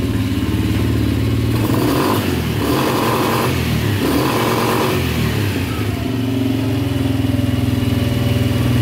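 A quad ATV engine revs hard against its rev limiter, a loud continuous buzzing drone that bounces and stutters as the limiter cuts in, close and alone.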